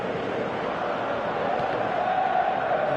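A dense crowd at a Paris versus Dortmund football match roars in a steady, unbroken wash of stadium noise that swells slightly toward the end.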